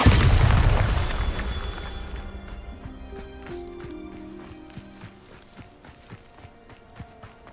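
A Bombarda spell goes off in Hogwarts Legacy with a loud, close booming blast that decays over a couple of seconds, followed by a run of quick footsteps and small in-game effects.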